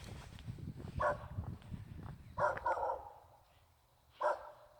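A dog barks repeatedly at an outdoor Balhae-themed village park in Gyeongsan, North Gyeongsang, on a cold winter day. Three separate bursts of barking come from a moderate distance over low background rumble and faint voices.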